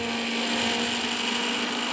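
A kitchen mixer grinder whirs steadily as it grinds salt-roasted crisp curry leaves, a loud continuous motor hum with no pauses.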